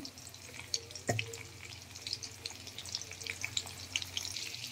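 Crushed garlic sizzles in hot oil in a pan, a faint steady crackle with scattered pops and a single sharp clink near the start, with no voices.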